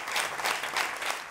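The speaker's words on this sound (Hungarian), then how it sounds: "A közönség állva tapsolta meg a döntést" A standing audience at a university gathering applauds together, dense and sustained clapping that fills the short moment with a few swells, no speech over it.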